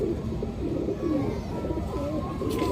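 Tamda pigeons cooing close by in a steady murmur of low, repeated coos, with a faint higher call near the end and no voices.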